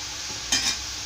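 Sorakaya (bottle gourd) curry stirred in a pan, one brief scraping swish over a soft steady sizzle, close and short.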